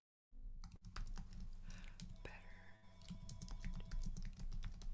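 Rapid typing on a computer keyboard, a steady run of close, crisp key clicks that continues without pause for several seconds over a low hum in a room.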